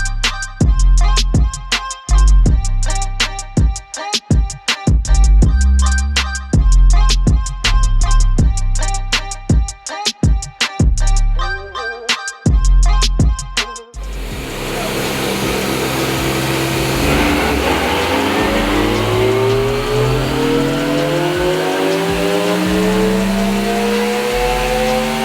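A 2021 Yamaha YXZ 1000R side-by-side engine revs hard and loud in rapid bursts with sharp throttle blips, then holds a steady, roaring high-rpm pull that climbs and winds up continuously, with no talking.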